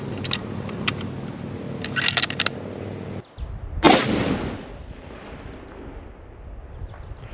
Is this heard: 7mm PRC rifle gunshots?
yes